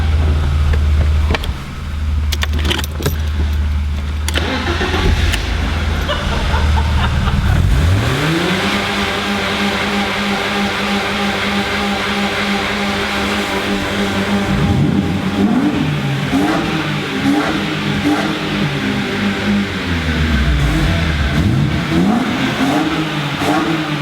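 A BMW E36 engine revs repeatedly, rising and falling in pitch through several strong, loud pulls, close by and alone with no talk over it.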